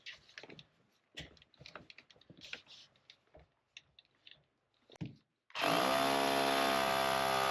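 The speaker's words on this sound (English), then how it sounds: "So basically what we're going to do is drill our first hole." A Hilti hammer drill in hammer mode bores its first hole, bursting in loud and steady near the end after a stretch of scattered knocks and handling noise.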